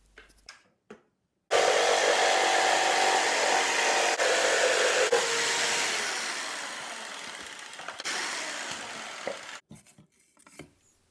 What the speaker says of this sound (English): And I'm using my Hyper Tough hand saw.